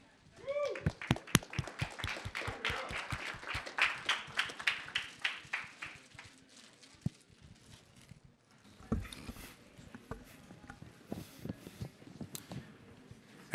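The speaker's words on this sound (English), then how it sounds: "Let's give him a round of applause" Applause for a speaker at a NFT.NYC 2022 real estate talk: a burst of close clapping from a small crowd in the opening seconds, thinning out into scattered claps, then a voice starts speaking.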